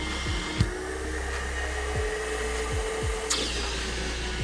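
A HYLA vacuum runs with a clogged hose, giving a steady, strained motor drone with a few sharp clicks and thumps along the way, heard close and alone.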